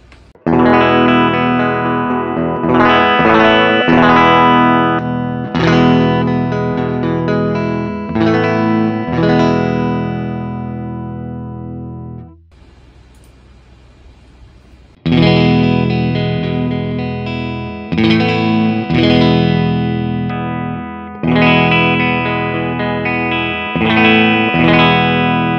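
Distorted electric guitar played through a real amplifier recorded in a DAW, with the speaker cabinet swapped between passages; loud sustained chords and riffs ring out, broken by a short quiet gap before playing resumes.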